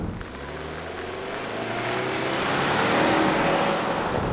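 A 2023 Subaru Ascent with a CVT transmission accelerating, its engine drone rising steadily and growing louder from inside the cabin, with no talking.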